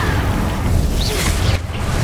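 The Confringo blast spell in Hogwarts Legacy goes off as a heavy, muffled boom with a whooshing rush, loud and close in a dense game mix.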